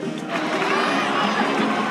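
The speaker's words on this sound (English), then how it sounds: "Let's give a huge round of applause to our brave young warrior, Kachina!" A Genshin Impact game crowd cheers and chatters in a broad, continuous wash of voices, moderately loud and sustained without a break.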